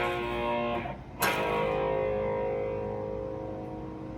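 Distorted electric guitar power chords from a song's riff ring out loud and sustained, with a brief choked gap before a sharp new strum that then decays slowly.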